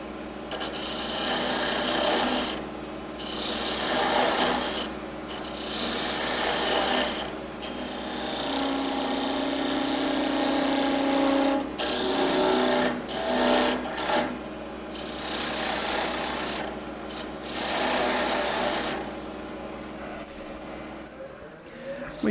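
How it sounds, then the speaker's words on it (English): Wood turning on a lathe, a skew chisel making paring cuts on a turned table part, giving a continuous close scraping rasp that swells and drops as the tool moves along the spinning wood. "We use a paring cut with my skew just to get rid of some of this material."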